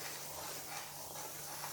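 A steady, soft hiss with a faint low hum throughout from water boiling in a pot for wheat rava kichadi, with no voices.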